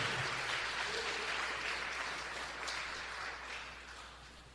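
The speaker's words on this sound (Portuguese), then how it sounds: "Então dê uma grande salva de palmas para Jesus" A church congregation applauding, a broad, even wash of many hands clapping at a distance, faint and steady, with a low hum beneath and easing slightly toward the end.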